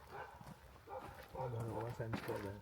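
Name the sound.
dog barking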